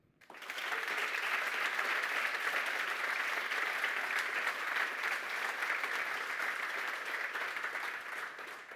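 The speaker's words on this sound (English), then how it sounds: "one more round of applause" Audience applause at the closing of the Neos Conference 2025, a sustained round of clapping from a large room that starts abruptly, holds steady for several seconds and eases off slightly at the end.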